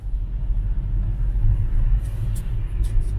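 Inside a Tesla Model S on the road, a low steady rumble of tyres and motion fills the cabin, with a few faint high clicks near the end.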